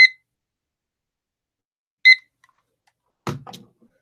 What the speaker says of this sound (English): Reaching for my timer.